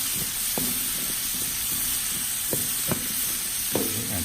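Mushrooms, onions and greens cook in a pan for paella with a continuous sizzle and hiss, broken by a few sharp clicks and scrapes of stirring.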